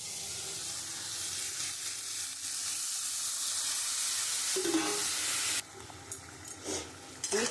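Boiled chana dal frying with spices and asafoetida in a pan gives a soft, steady hiss that swells into a louder, brighter sizzle near the end as it is stirred.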